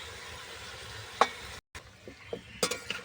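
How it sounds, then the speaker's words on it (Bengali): Meat being fried and stirred with ground spice paste, salt, turmeric, chopped tomato and elephant foot yam in a pan, giving a steady low sizzle with a few sharp scraping knocks from stirring. "এভাবে আমি বেশ কিছুক্ষণ মাংসটাকে কষিয়ে নেব"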